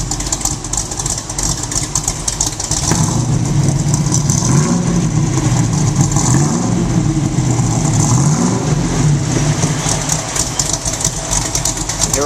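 A 1967 Chevrolet Camaro V8 idling through Dynamax mufflers with the electric exhaust cutouts closed, a steady loud low rumble with a few small revs midway, no talk.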